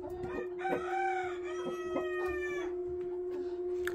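Chickens cluck in short bursts around a sustained, close rooster crow that holds for a few seconds before the clucking trails on.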